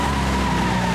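Game car in the Wreckfest racing title spinning out at Hillstreet Circuit, with a steady, loud engine drone and a continuous tire skid smeared across the whole second, no voices.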